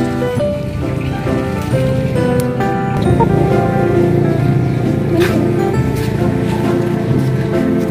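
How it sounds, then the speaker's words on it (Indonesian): Rain falls steadily over a home vegetable garden, a continuous broadband patter with a tonal musical layer running beneath it throughout. "Hujan."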